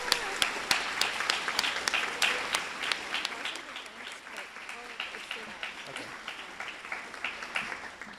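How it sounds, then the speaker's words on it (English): A live audience at a university games showcase claps in sustained applause for a game development team, with dense rapid claps that fade slightly and then swell again under a faint background murmur. "we can give a round of applause for our team over there."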